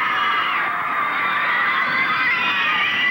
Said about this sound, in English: If you want to give him a nice round of applause to welcome him here, Roddy Piper.